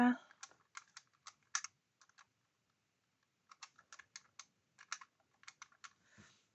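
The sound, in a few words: typing on a calculator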